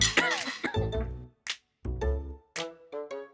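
Someone coughs and clears their throat in a few sharp bursts, close by, with voiced strain between the coughs, in a domestic scene from an Urdu drama.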